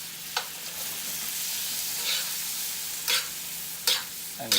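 A ribeye steak sizzles steadily in a hot pan with butter, crushed garlic cloves and herbs, while a spoon bastes it, adding a few sharp scraping clinks over the constant close frying hiss.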